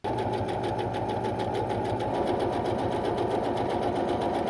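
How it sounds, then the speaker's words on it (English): A sewing machine stitching to take in the seams of striped trousers, running in one continuous close, steady mechanical hum with a rapid needle rhythm and no talk. "let's take this to the machine and we are going to take in all of those seams according to the lines we just drew."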